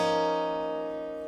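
Acoustic guitar chord, strummed once and left to ring. It sounds close and clear, and the note fades slowly over about a second.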